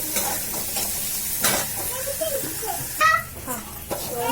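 Ground spice paste sautéing in a pan, with a steady sizzle and occasional stirring scrapes; brief voices murmur in the background.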